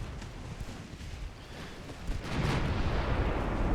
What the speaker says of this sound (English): Battleships are firing.